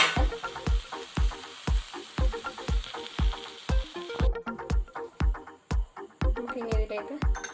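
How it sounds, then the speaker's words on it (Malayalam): Jackfruit sautéed with grated coconut in a pan, heard as a soft sizzle under a fast, regular run of sharp spatula taps and scrapes against the pan, close and clear. "തേങ്ങയും കൂടി ചേർത്ത് നന്നായിട്ടൊന്ന് വഴറ്റിയെടുക്കാം"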